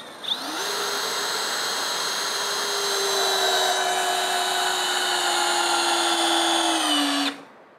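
A Ryobi 18V brushless right angle drill drives a screw through a 2x4 into more 2x4 lumber: one sustained, loud, high whine that rises at the start and cuts off sharply near the end.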